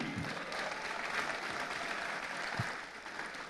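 A crowd at an Indonesian political gathering applauds steadily, giving a dense, continuous wash of clapping that holds at a constant level throughout with no voices on top.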